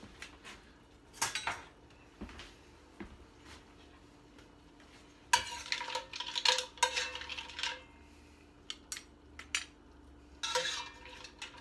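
Metal spoon clinks and scrapes against a pot of mussels in a home kitchen, a run of irregular clatters and knocks, close and moderately loud, with quieter gaps between bursts.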